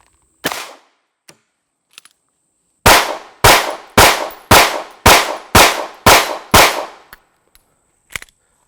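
Sig P365 pistol firing a string of eight sharp, loud shots in quick succession at a steady pace, preceded by a single isolated shot, with a few faint clicks between.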